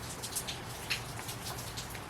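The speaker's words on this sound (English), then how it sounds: "since it's raining" Rain falls steadily in a soft continuous patter, with a few sharper drops landing close by, and no voices.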